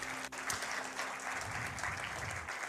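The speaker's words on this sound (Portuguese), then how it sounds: "Você pode aplaudir ao Senhor por esse momento?" A church congregation applauds in steady, dense clapping that fills the room, distant and even, with no voices heard.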